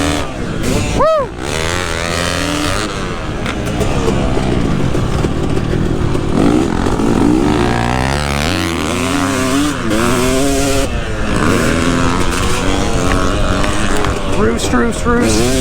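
Two-stroke motocross bike ridden hard, its engine revving loud and close throughout with rising and falling pitch sweeps as gears change, plus a brief whoosh early on and wind buffeting under a rider's occasional voice.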